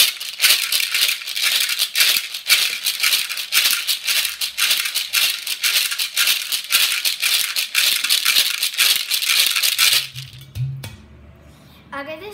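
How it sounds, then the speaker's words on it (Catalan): An African gourd shaker is shaken continuously in a fast, even rattling rhythm, close and loud, for about ten seconds, then stops as a brief voice comes in at the end. "Aquest és el shaker o carabassa africana."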